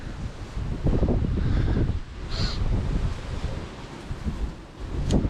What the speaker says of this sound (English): She got a blast of wind.